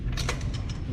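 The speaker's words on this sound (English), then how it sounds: "gonna torque these wheels right here" A torque wrench tightening lug nuts on a 2005 Chevy 1500 truck wheel, heard as a close, short series of mechanical creaks and clicks lasting about a second, with no talk.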